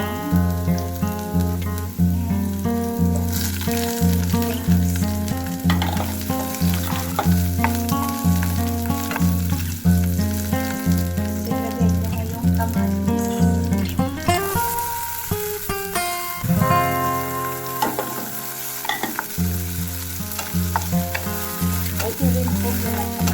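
Garlic frying in a pan in a home kitchen, a loud continuous sizzle with rhythmic stirring scrapes throughout, briefly swelling as more oil spits midway.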